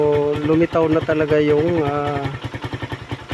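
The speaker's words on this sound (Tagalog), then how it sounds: "Ayan, tumatakbo siya nang wala ng langis." A Suzuki Raider motorcycle engine runs dry of oil, a rough, rapid mechanical chugging and clatter that continues steadily under someone talking close by, then carries on alone with a pulsing beat.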